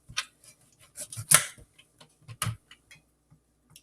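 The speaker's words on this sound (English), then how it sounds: "Now I'm going to cut them." A knife cuts through butternut squash in a series of sharp, sparse clicks and taps, close and fairly quiet, with irregular gaps between cuts.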